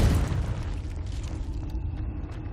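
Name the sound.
Confringo fire blast spell from video game Hogwarts Legacy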